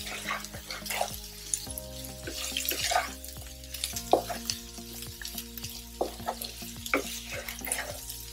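Spiny gourd slowly frying over a low gas flame, stirred with repeated scraping strokes through a soft, steady sizzle; a tap runs briefly in the background, and no one speaks.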